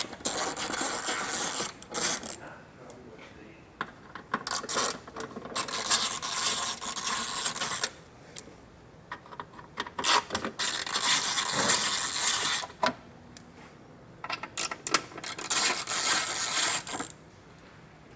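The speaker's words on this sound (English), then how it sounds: "grab a T25 Torx bit, and there's 4 screws that we need to remove from the rear bumper fascia" A T25 Torx bit on a power driver backs out screws from the rear bumper fascia of a 2022 Audi Q5, giving bursts of harsh scraping and whirring separated by quiet pauses, up close.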